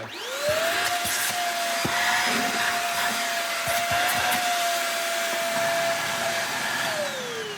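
Beldray corded stick vacuum cleaner running steadily, a loud, high-pitched motor whine that spins up at the start and winds down at the end, with faint knocks and rattles underneath.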